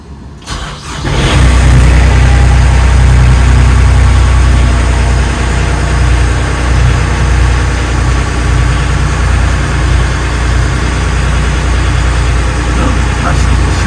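A boat's port engine cranks briefly and then catches, settling into a loud, steady low rumble that runs continuously.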